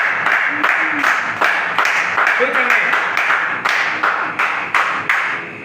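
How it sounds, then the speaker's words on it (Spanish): A church congregation at an evening family-altar service claps in a steady rhythm, the beats sharp and evenly spaced throughout, while a voice speaks over the clapping. "Darle un fuerte aplauso al Señor en esta tarde."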